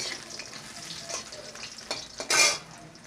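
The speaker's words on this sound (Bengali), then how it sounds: "আলুগুলো ভাজা হয়ে যাবে।" Potatoes fry in a pan for a Bengali shukto, a soft sizzle running under a few scraping stirs, with a louder metallic scrape and clatter near the end.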